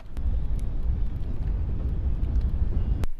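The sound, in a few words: wind blowing at harbour, wind noise on microphone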